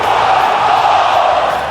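A loud, sustained roar from a fired-up wrestling arena crowd in WWE 2K20, a continuous cheering wall with no breaks over the short stretch.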